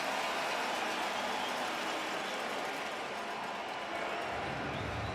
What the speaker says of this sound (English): Crowd here at IG Field got going just a little bit, didn't they, buddy?